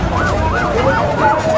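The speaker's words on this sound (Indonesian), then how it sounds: "Ambulan ini ingin masuk ke dalam." An ambulance siren wails in a repeating rising-and-falling cycle, loud and close, trying to enter a crowded gathering in Indonesia, over a dense rumble of crowd and street noise.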